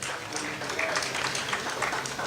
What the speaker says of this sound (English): And I want you to give them a round of applause as well.